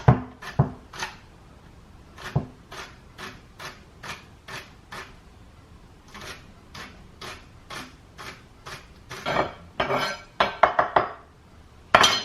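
A knife slices widthwise through celery on a cutting board in a run of crisp, evenly spaced chops, close and distinct, speeding into a cluster of quicker cuts near the end.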